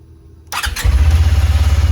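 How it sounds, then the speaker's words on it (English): A motorcycle engine cranks and fires using a portable jump starter pack, catching abruptly after a brief quiet and settling into a loud, close, steady pulsing idle. "So let's turn it on."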